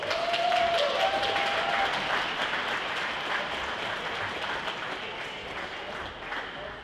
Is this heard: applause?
yes